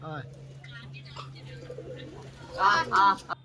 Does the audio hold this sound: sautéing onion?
no